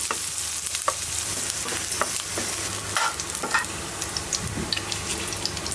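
Onions frying in oil in a pan for a Rangpur-style potato bhorta, a soft continuous sizzle broken by scattered scrapes and stirring clatter close by.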